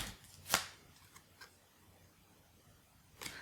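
Tarot cards being shuffled and drawn for a new moon reading: one crisp, loud riffle snap, then a few faint taps and flicks, and a last snap near the end, with no talking.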